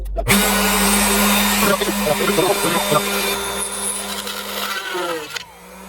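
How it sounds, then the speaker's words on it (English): A CNC machine routes wooden brackets out of a workpiece in a home woodworking shop, a loud continuous high-pitched whine of the spinning cutter with rising and falling pitch as it moves, ending abruptly near the close. "I'm going to cut these out on the CNC"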